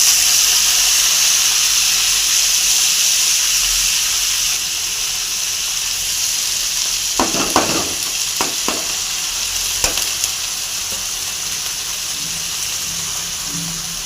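Shredded cabbage frying in a hot pan, a steady loud sizzle and hiss throughout, with a few brief clinks of a utensil stirring partway through.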